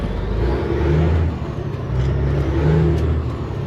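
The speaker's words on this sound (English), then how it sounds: "Car coming behind me." A car closes in from behind on a Houston, Texas roadside, its steady engine rumble and tire roar swelling loud and near with a low whir throughout.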